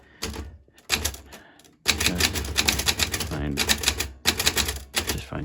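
A Smith Corona Silent Super typewriter clacks out bursts of rapid keystrokes separated by short pauses, close and crisp, ending with a few spaced strikes.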